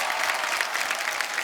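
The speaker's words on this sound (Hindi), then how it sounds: "जोरदार तालियां हो जाएं।" Studio audience on a comedy talk show breaking into enthusiastic applause, a thick, even wash of clapping close up for the whole moment.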